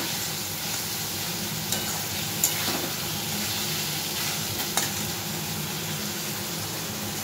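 Water pours into a pan of potato curry cooking in spiced masala for a vegetarian Bengali meal. It makes a steady, close sizzling hiss throughout, with a few faint clinks.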